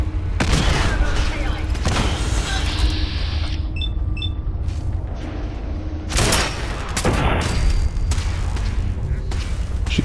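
Gunfire and heavy booms in a Fallout 4 firefight, loud bursts and blasts recurring over a constant game soundscape, with a person talking at points.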